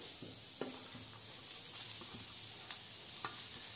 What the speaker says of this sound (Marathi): इथे तव्यावर कांदा टाकते पहिला